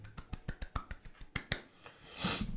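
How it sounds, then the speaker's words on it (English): A small group in a casual vegan Q&A hangout gives a sparse round of applause: about a dozen distinct, crisp claps in an uneven rhythm, close by, followed by a brief rustle. "Let's have a round of applause for Annam."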